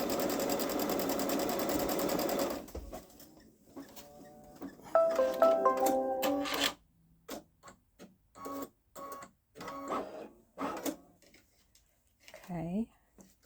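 A Baby Lock Solaris embroidery machine sews out a design in a steady mechanical whir, close and fairly loud. It then stops, and someone speaks in short phrases against faint clicks.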